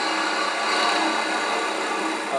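A wood turning tool cutting into a spinning piece of wood on a lathe to shape a small podlet flower, giving a continuous close hissing shear that stays steady and loud throughout.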